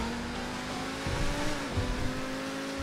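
A Progen T20 supercar in Grand Theft Auto Online revs steadily at close range, its engine tone holding a sustained pitch with a surge of throttle in the middle, alone without talk.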